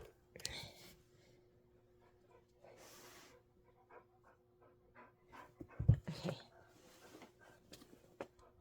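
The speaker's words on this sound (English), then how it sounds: "there's some heavy breathing going on in my room" Dogs pant heavily and rhythmically nearby, with soft rustling and occasional faint voices in a quiet room.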